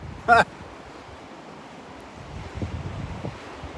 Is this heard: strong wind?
yes